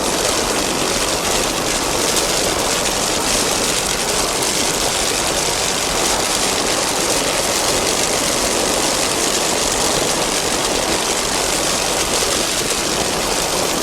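An offshore racing boat powered by two 750 horsepower MRD inboard engines with Mercruiser drives, racing at a Key West world championship, produces a loud, continuous engine roar. The roar holds steady and dense throughout with no talk.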